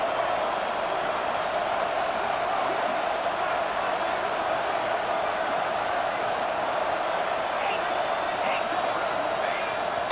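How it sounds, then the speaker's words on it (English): A stadium crowd at a football game roars in a steady, dense wall of noise, loud and unbroken throughout, with no clear voices rising above the din. "this crowd coming to life here, trying to help the defense get a stop"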